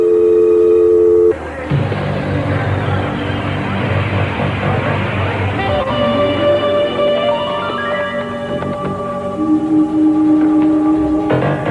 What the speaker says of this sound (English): Come on, Cruz, pick up the phone.